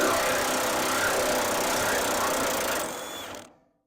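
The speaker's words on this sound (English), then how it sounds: "these bolts are pretty rusted, so I'm got to get the bigger impact out" An impact wrench works on rusted half-inch bolts in one loud, continuous close-up run lasting a few seconds, then winds down and cuts off into silence.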